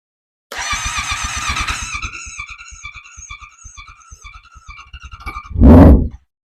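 Motorcycle engine cranking with a rapid chattering starter, catching and settling into a steady putter, then a short loud rev near the end before cutting out, close and clear with no talking.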